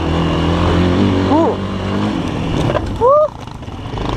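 A GEON X-Road 250 PRO enduro motorcycle revs on a dirt enduro track, with rising and falling engine whines in two short bursts under excited shouting and talk.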